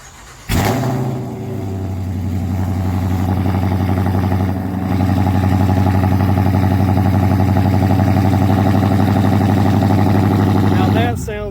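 Dodge Charger with a resonator delete and aftermarket BlackWidow mufflers cranks and fires after a brief pause, flaring loudly before settling into a deep, steady, rumbling idle that runs close and strong throughout, then cuts off at the end.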